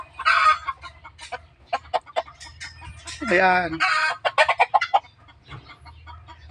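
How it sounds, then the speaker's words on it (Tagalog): A Talisayin rooster, a kept gamecock, clucks close to the microphone in quick bursts, with one longer drawn-out call in the middle, while someone speaks briefly between the sounds. "ito naman ang aking tandang"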